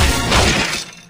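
Glass in a supposedly unbreakable monitor shatters in a cartoon lair: one loud, close crash of breaking glass that rings briefly and then fades within a second.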